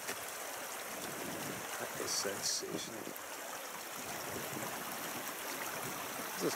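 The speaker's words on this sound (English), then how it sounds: "Hear the water." Water flows at Lake Louise in Banff, a soft continuous rushing wash heard outdoors at a distance, with a brief faint higher tone midway and quiet voices in the background.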